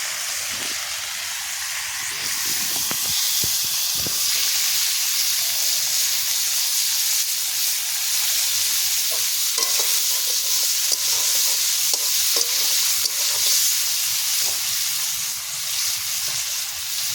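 Green chilies sizzle and fry in a hot pan at an outdoor New Year picnic cookout, a steady loud hiss throughout with occasional stirring scrapes and clinks, no voices.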